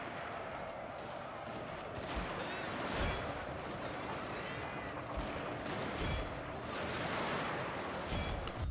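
Musket and artillery fire in a Total War: Shogun 2: Fall of the Samurai battle, heard as repeated sharp bangs and crashes over a continuous roar of combat. Shots land at irregular intervals and vary from near to distant.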